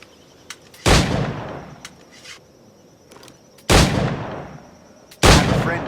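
Three loud, close firearm gunshots ring out in Assassin's Creed IV Black Flag, each a sharp crack with a decaying tail, spaced irregularly over a quiet background with a few faint clicks.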